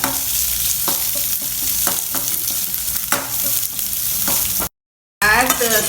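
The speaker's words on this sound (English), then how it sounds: "Stir it together." Onions being stirred in a hot frying pan, loud steady sizzle with scraping spatula strokes, a brief gap near the end before a voice speaks.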